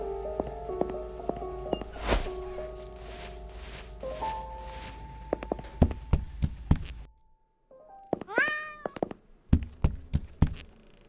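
A cat meows repeatedly in the horror game Burnhouse Lane, a cluster of clear, close cries near the end after a run of knocks and thuds, set against a dark droning game ambience.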